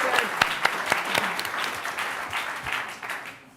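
An audience at a demo day event claps for the presenting teams, a dense burst of applause with sharp individual claps that gradually thins and fades toward the end.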